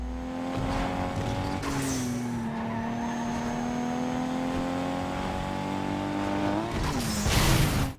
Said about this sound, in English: I can hear the car just fine.